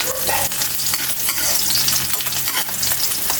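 Squid adobo frying in a pan with garlic, loud close sizzling broken by scraping stirring strokes, no talking.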